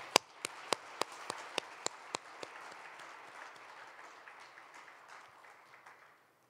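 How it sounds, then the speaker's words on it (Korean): Applause from the audience at the 53rd Korea National Prayer Breakfast. A few sharp individual claps stand out at first, then a soft, steady patter of clapping slowly fades away. "다시 한번 큰 박수로 감사 인사를 드리겠습니다."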